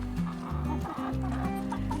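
Backyard hens, including buff Orpingtons and gold and silver Wyandottes, cluck nearby in short repeated murmuring calls, a soft steady chorus with no talking.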